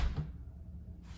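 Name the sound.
LG window being shut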